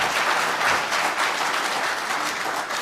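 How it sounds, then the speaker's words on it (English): Conference audience applauding after a presentation, a dense continuous wash of clapping from many people across the whole stretch, even in loudness and heard alone without talking. "So big round of applause for Justin, please."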